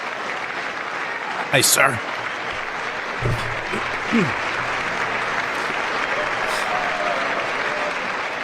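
Audience applause during a State of the Union address, a steady broad wash of clapping throughout, with a few voices speaking over it.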